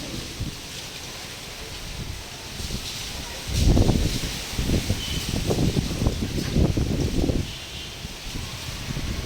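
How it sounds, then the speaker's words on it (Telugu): Strong gusts of wind roar through coconut trees ahead of heavy rain in Hyderabad, swelling and easing in waves with rustling leaves, outdoors with no voices. "కొబ్బరి చెట్టు కూడా ఊగుతుంది, చాలా గాలి వస్తుంది."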